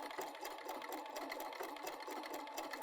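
An older, fussy sewing machine runs steadily, stitching zigzag across a crochet-inspired embroidery piece, a faint continuous whirring hum heard close with no voices.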